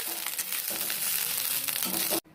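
Food sizzles and fries steadily in a pan while being roasted for a Vat Savitri festival dish, a loud continuous crackle that cuts off abruptly near the end.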